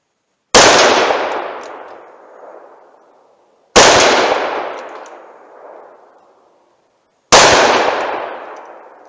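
Three loud, evenly spaced gunshots from Blazer .357 Magnum ammunition fired at a target tank outdoors, each sharp crack trailing off in a long rolling echo before the next.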